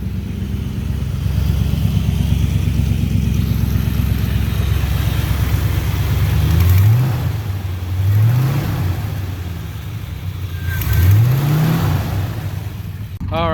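A 1980 Chevrolet C30 dually with straight pipes and rusted, blown-out mufflers runs after a cold start, its loud, close, rough idle broken by three quick revs that rise and fall, with someone talking over it at times.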